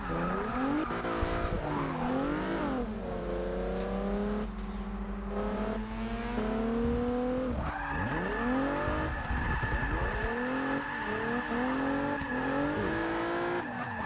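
A Mazda RX-7 race car in a racing video game, its engine wailing through rising and falling revs with shifts, tire squeal and skids, alongside other engines, loud and continuous.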